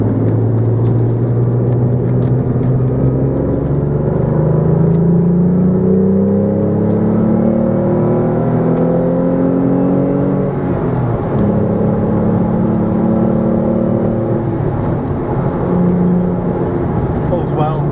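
A 2002 Renault Clio V6 engine drones steadily and loudly, its pitch rising through each gear with brief drops as it shifts, a voice talking over it.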